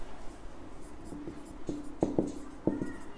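Pen or marker strokes writing out a trigonometry proof, a run of short scratchy strokes and taps in uneven bursts, close and fairly quiet against a light hum.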